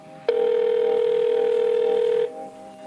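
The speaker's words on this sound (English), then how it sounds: "grabbing his cell phone and dialing the police station" A cell phone dial tone sounds while a call is placed to a police station: one steady, loud electronic hum that holds for about two seconds, then cuts off abruptly.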